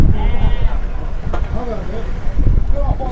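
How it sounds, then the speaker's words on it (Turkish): Goats bleat at a livestock market in Maştağa, their short wavering calls mixed into the busy outdoor noise while someone speaks nearby. "Burada keçilərimiz var."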